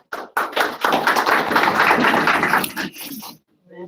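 Conference audience applauding in a hall, a dense burst of clapping lasting about two and a half seconds before fading, with a brief voice at the tail.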